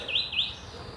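Birds chirp outdoors, two quick high tweets close together over a quiet background hum.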